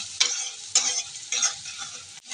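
Chopped onions frying in a hot pan, a steady bright sizzle broken by several scraping stirs at roughly half-second intervals, close and fairly loud.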